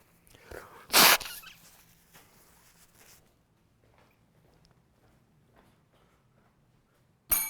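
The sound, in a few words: person blowing their nose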